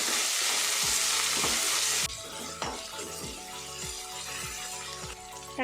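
Chopped tomato sautés in hot oil with curry leaves and a little coriander, a dense frying sizzle broken by regular scrapes and taps of a spatula stirring the pan.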